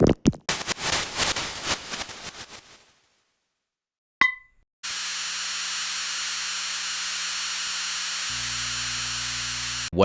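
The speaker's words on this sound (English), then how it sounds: "this sample is actually a very noisy FM sample" A harsh, noisy FM synthesized tone with buzzing texture, processed with convolution, cuts out into silence, then a short ping, followed by a long sustained hissing, droning synth layer.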